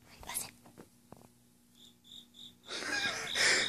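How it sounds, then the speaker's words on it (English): A cricket chirps indoors in a house, short bursts repeating from about the middle onward, becoming louder and denser near the end, with whispered talk and a few knocks heard at the start. "There's a cricket inside of our house."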